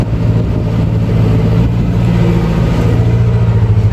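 A 5455 farm tractor with a tuned injection pump pulls a subsoiler, its diesel engine laboring at a steady loud drone with a strong low hum and constant throb throughout, with no voices.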